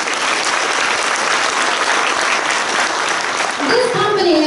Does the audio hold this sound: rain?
no